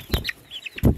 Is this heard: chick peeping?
yes